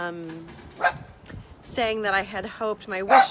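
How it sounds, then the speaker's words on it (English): A pet dog barks and yips in short bursts indoors, mixed in with a person talking nearby. "sorry for the dog barking"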